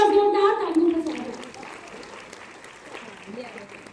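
Applause from an audience at a kavi sammelan poetry evening in a camp, a burst of clapping that starts loud over a sustained musical tone and fades to a softer patter with a murmuring crowd.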